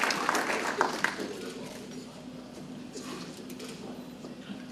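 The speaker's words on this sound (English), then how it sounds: "Please give a round of applause to our Hall of Fame inductees, 2012." An audience at an alumni breakfast applauds Hall of Fame inductees, a burst of clapping that is strongest at the start and then fades to a thinner patter over low room murmur.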